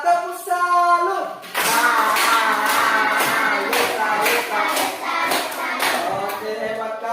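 Children clap a rhythmic 'tepuk salut' pattern in a classroom, a brisk run of loud, close, evenly spaced claps that follows a short burst of voices.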